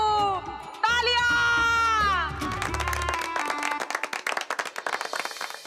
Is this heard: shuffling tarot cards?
no